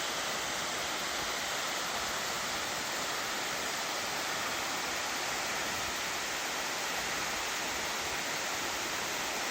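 Shine Falls runs low on water but still pours in a steady, continuous rush of broadband water noise. The roar holds at an even, moderate level with no voices or other sounds.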